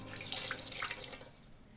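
Water splashing and trickling from a towel soaked in ice water being wrung out in a dating sim game, a brief close rush of dripping that fades out within a couple of seconds.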